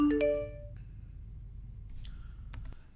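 A phone sounds a short chiming notification tone at the start, and it rings out over quiet room noise before fainter clicks and a brief electronic chirp follow; no one speaks.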